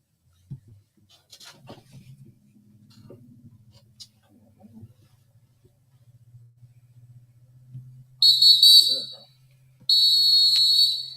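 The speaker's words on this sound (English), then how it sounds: "Big whistles." Two loud, high-pitched whistle blasts near the end of a podcast recording, each held about a second, following a quiet stretch of faint background sounds.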